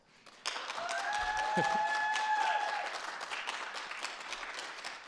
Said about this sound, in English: Can we give our finance department a big round of applause?